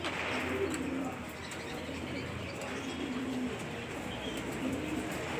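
Young male hazelnut-shell-colored pigeon from a pigeon loft in Alexandria, cooing softly amid a low, steady background hum, with faint chirps from other birds nearby.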